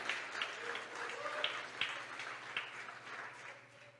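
A church congregation claps for the Lord during a sermon, a fairly dense and even round of applause with some sharper individual claps, recorded over a low electrical hum.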